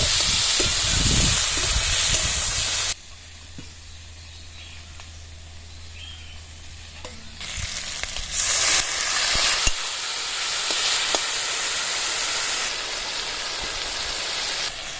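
Loud, steady sizzling of prawns frying in a pan with chilli powder, with occasional stirring and scraping, continuing without any talking.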